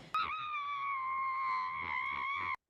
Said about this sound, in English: And if all else fails, scream into a pillow.